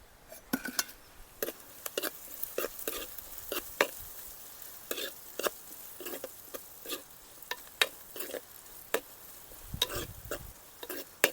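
Pieces of dried beef being stirred and mixed in a cooking pan, with a steady run of light scraping and clinking strokes throughout, fairly quiet and close, with no talking.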